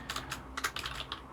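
Quick, irregular clicks of typing on a computer keyboard, with about a dozen soft key taps in rapid succession, close and fairly quiet.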